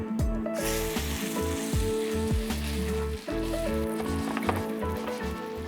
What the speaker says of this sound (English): give them a quick pan fry in some brown butter and sage